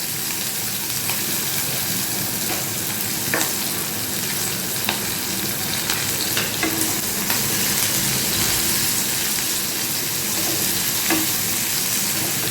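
Chopped onion, green chili and garlic frying in a pan, giving a steady, loud sizzle throughout with occasional soft clicks and scrapes of stirring.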